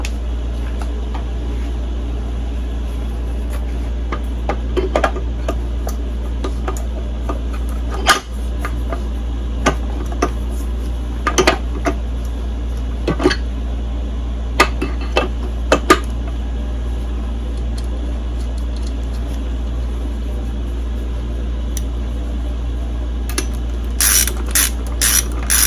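Ratcheting clicks and mechanical taps while a flywheel goes onto a 1969 Evinrude 6 HP outboard with a spark checker attached, sparse and close over a steady low hum, with a cluster of sharper ticks near the end.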